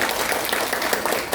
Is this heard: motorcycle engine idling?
no